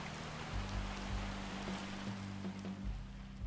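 Steady rain falls in a quiet, dark scene of the Bear & Breakfast video game, a continuous soft wash over a low droning hum, with no voices.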